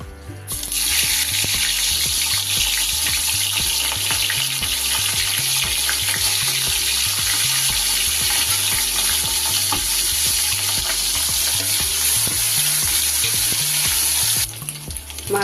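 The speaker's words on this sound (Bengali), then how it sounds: "মাছের মাথাটা কিন্তু আমার ভাজা হয়ে গেছে" A hilsa fish head fries in rice bran oil, giving loud, continuous close-up sizzling and crackling that holds for the whole stretch with no talk, easing off only briefly at the very end.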